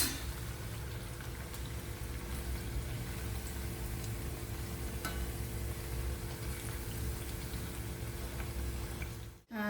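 Thattai rice crackers deep-frying in oil, a steady soft bubbling sizzle running continuously at low level, with faint clicks scattered through and a sudden cutoff at the end.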